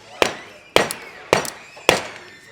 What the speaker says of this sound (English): I'm gonna use my other hammer to pound